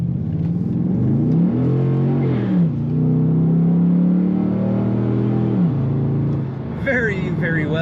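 A 2005 Pontiac GTO automatic accelerates hard, its engine note climbing loudly and dropping at each gear change as it pulls up through the gears, heard from inside the car.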